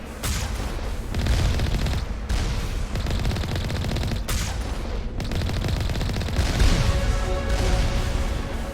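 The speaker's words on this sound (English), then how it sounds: "They're already firing at us. Long range. Chill out, turrets." Sustained turret gunfire in Mass Effect 1 Legendary Edition, rapid automatic bursts with booming impacts that run nearly the full length, fairly loud and dense, with brief lulls between volleys and no voices.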